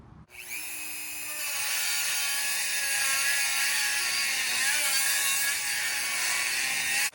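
Power tool cutting off the exhaust tip of a 1966 Buick Wildcat, a steady high-pitched metal-cutting whine that starts abruptly and runs close and loud for several seconds without talk.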